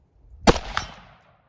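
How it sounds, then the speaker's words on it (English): Single close, loud gunshot from a Cetme Model L rifle in 5.56 NATO, fired on iron sights, with a sharp crack followed by a quick echo and a rumbling tail that fades within a second. "I'm going to shoot iron."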